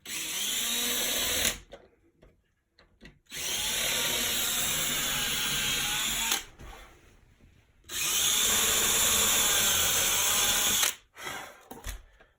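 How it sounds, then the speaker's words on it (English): A power drill whirs in three sustained bursts of a few seconds each, with short quiet pauses between, close and loud as it drives screws into wood while fitting Hettich Wingline bifold cabinet doors. "So you just need drilling in."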